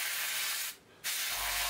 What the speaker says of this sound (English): it's not spitting, it's laying down the paint fine, but there's an odd kind of very slight pulse